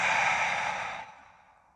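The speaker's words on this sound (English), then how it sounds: "breathing out of the mouth." A long, steady exhale out through the mouth during a gentle hatha yoga session, a close breathy whoosh that gradually fades away.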